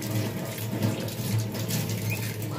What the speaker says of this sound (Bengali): কলের জলের আওয়াজ